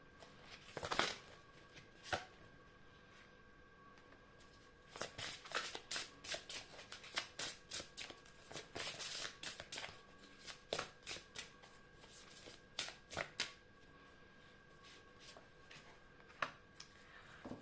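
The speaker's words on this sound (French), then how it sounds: "je vais tirer d'autres cartes pour avoir un peu plus de précision pour le choix numéro 2" Tarot cards being shuffled and drawn, a long run of quick crisp riffling bursts and flicks, close and fairly quiet, with short pauses between handfuls.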